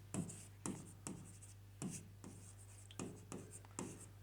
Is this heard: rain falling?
no